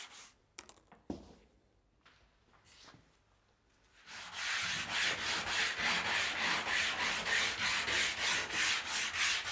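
Quiet taps and scrapes, then steady rhythmic hand sanding on a wooden alphorn, back-and-forth strokes close and fairly loud, continuing evenly without talk.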